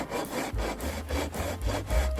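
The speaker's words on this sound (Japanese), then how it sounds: "今使っているヤスリは30センチの鉄鋼ヤスリですが、重いので25センチでも良いかと思います。" A 30 cm steel file worked back and forth in rhythmic rasping strokes on a model train floor plate, close and steady at roughly two strokes per second, no voices.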